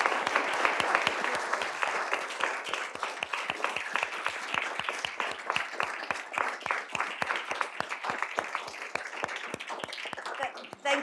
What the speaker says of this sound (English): Please join me again in thanking Judge Pillay.